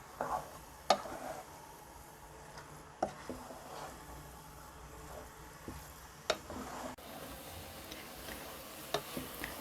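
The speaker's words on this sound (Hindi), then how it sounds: "अब इसमें फ्रेश बलाई को डालेंगे और तेज़ आंच पर उस वक्त तक पकाएंगे जब तक कि बलाई से घी ना निकल आए।" Grated carrots and fresh cream frying on high heat in a pan for gajar halwa, a low continuous sizzle with sharp clicks and taps of a spoon stirring against the pot at irregular intervals.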